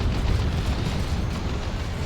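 Plasma cannon shots striking a battle wagon in Dawn of War 2, heard as a dense, rumbling barrage of booming impacts and explosions, loud and continuous without clear gaps.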